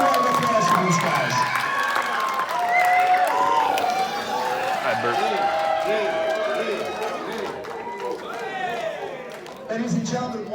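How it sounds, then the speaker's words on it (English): A premiere audience cheers and applauds with shouts and crowd noise, loud and sustained throughout, with a voice over the din near the end. "Big round of applause for these guys."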